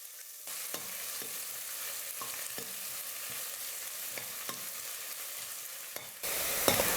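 Chopped onion sizzles in hot oil with cumin in a pressure cooker, a steady close frying hiss with occasional stirring clinks, louder at the end.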